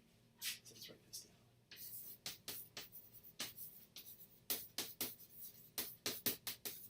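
A marker or pen scratches out notes on a board during a lecture, producing a rapid series of short, bright strokes in irregular bursts, close and fairly clear.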